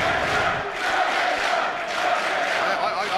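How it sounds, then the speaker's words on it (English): A loud wrestling crowd in Newcastle roars steadily for Konosuke Takeshita's entrance, a dense, continuous wall of cheering and shouting with no breaks. "Wow, listen to that crowd."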